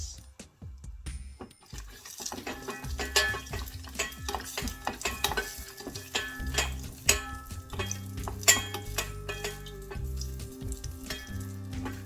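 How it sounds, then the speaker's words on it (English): Cashew nuts roast in hot ghee, giving a soft frying sizzle with repeated scraping and clinking of a spoon stirring in the pan, close and moderately loud. "We're roasting the cashew."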